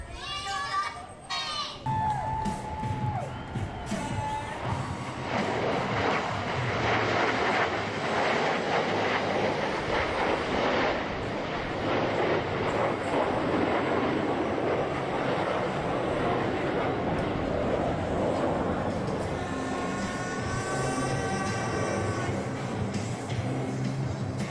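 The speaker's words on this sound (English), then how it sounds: "Blue Angel Diamond will momentarily be making its approach from the right." Blue Angels Diamond formation jets pass over a Pensacola Beach air show, a loud rising and fading engine roar that swells across the whole stretch with a crowd and announcer heard beneath.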